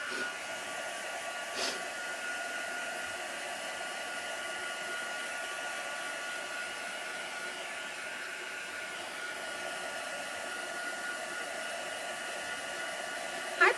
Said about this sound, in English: Heat gun on at the same time again.